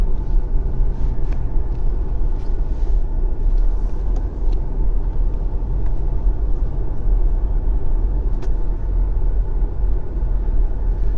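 A car driving a slow lap through a construction site for a shopping plaza, steady loud low engine and road rumble from inside the vehicle throughout, with faint scattered knocks.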